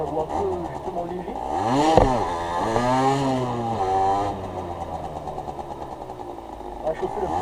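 Motorcycle engine running, revving in repeated rising and falling sweeps with a steady idle between, close and loud under someone speaking French.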